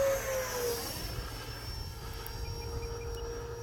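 RC airplane flying with wheels up and no flaps at about three-quarter throttle, a steady distant engine whine with a faint high tone, droning evenly throughout.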